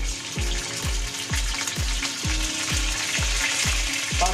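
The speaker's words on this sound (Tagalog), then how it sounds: "ipa-fry po muna natin sa low fire ang ating pork" Pork frying over low heat in a pan, a steady sizzle running throughout with a regular rhythmic scraping or ticking about every half second, close and fairly loud.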